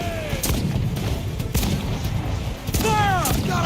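Ship cannons boom repeatedly in a naval battle in Assassin's Creed Black Flag, heavy blasts at about half-second, one-and-a-half and near three seconds over a dense rumbling din, with shouted voices.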